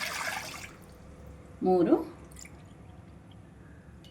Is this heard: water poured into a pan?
yes